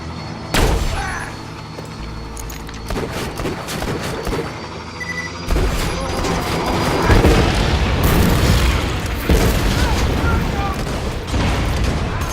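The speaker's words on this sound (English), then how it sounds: "Grenade!" A grenade explodes in Borderlands 2, with heavy booming blasts and bursts of gunfire in a loud, dense battle that continues throughout, and a voice talks over the fighting.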